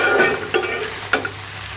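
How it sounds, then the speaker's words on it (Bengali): Pabda fish and dried fish fry in a pan with a steady sizzle, while a utensil scrapes and stirs in a couple of distinct strokes. "তো ভাজিতে হয়ে আসছে প্রায়"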